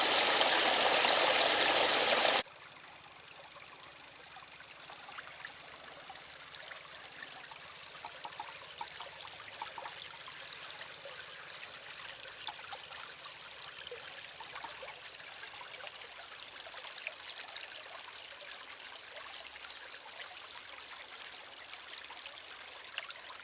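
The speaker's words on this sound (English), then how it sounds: "The Hamble certainly isn't one of Hampshire's clear chalk streams," The River Hamble, a murky stream in Hampshire swollen after rain, flows with a soft steady babble heard faintly at a little distance after a brief louder burst at the start, continuing evenly with no voices.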